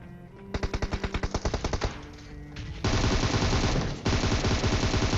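Gunfire in the mobile battle royale game PUBG Mobile, a rapid automatic burst followed by dense, continuous heavy firing that grows louder and fills the scene, with a brief drop before resuming.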